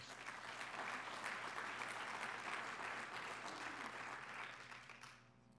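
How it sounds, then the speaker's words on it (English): Audience at the 2011 City of Gaithersburg State of the City Address applauding itself, dense, sustained clapping from a large crowd that fades out near the end. "Please give yourselves a round of applause."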